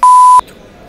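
A single loud, pure electronic censor beep lasting under half a second, clean and steady, drops off abruptly into near silence.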